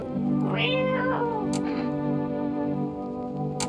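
A cat meows in the horror video game No, I'm Not Human, a single drawn-out, rising-and-falling cry over a steady hum of background music, fairly close and clear.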